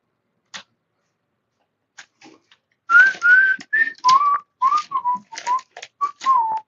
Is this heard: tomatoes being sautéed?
no